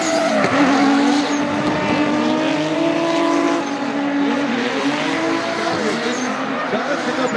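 Drift cars at the LZ Invitational, among them a 4 rotor Supra, race along the track with loud, close engine roar and long wavering tire squeals as they slide, continuous throughout, with a commentator's voice faintly underneath.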